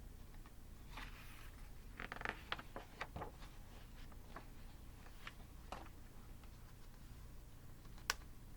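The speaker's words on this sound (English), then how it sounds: "struggling turning the pages here" Faint, soft rustles and flicks of the pages of a children's picture book about animal mothers being turned, several quick swishes scattered across a quiet room.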